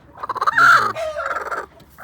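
A rooster clucks in a quick run of close, loud, pulsing calls, breaks into a short strained crow, then goes back to rapid clucking, heard alone without speech.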